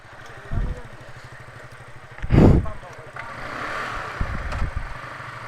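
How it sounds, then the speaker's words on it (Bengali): A Yamaha R15M motorcycle turning around on a hill road in Bandarban, its engine idling with a low steady thrum and a brief rev midway, close by while people talk over it. "বাইক ঘুরাই ফেল সাবধানে"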